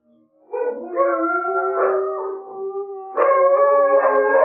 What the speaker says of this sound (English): there's a hound down there howling at this moment